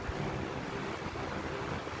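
An electric fan runs at high speed, its blades churning out a loud, steady, hissing rush of wind, close and constant with no talking.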